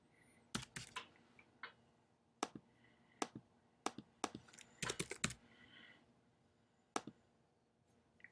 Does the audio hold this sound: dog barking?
no